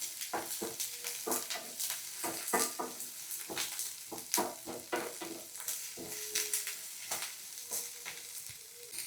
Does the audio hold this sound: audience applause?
no